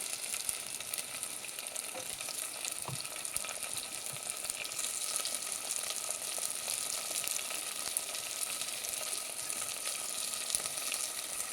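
Tomatoes frying in a pan with ginger and garlic for a spicy fish curry, a steady close sizzle and crackle that runs unbroken throughout with no voices.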